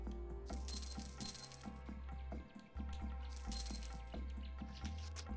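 Bright chiming fruit-pickup jingles from the video game Kula World ring out twice over steady game music, each a quick sparkling cascade, loud and close with no talk.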